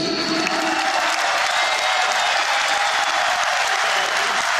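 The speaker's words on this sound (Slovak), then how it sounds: "Ešte jeden veľký potlesk poprosíme pre Maťa Ďuridu a Tubatánku, dámy a páni." A large crowd at an outdoor stadium opening event in Tehelné pole applauds, a dense, steady wash of clapping at full loudness throughout, with a faint hint of cheering mixed in.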